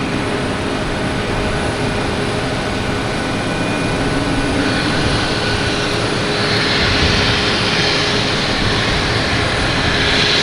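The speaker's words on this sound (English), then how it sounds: "Next up is a Delta heading to Atlanta, an A321" A Delta Airbus A321 jet airliner at Boston Logan Airport roars loudly and steadily, its broad engine noise building slightly toward the end with no voices over it.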